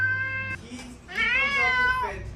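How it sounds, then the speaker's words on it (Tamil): A house cat meows twice, loud and close, the first cry short and the second drawn out and wavering, with a brief lull between them. "எங்க பூனை கத்துற சத்தம் மட்டும் வருது"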